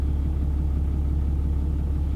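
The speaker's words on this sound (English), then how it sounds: "Even from the inside, I can really appreciate the sound of this truck." A pickup truck engine with a dumped exhaust idles steadily, a deep, even rumble with a low throb that holds constant throughout, heard from inside the cab.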